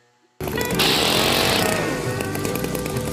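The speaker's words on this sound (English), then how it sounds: "He just bought a new one and he's literally like SpongeBob, leaf blowing everywhere." A newly bought leaf blower runs outdoors, its engine kicking in abruptly and holding a loud, steady buzzing roar without pause.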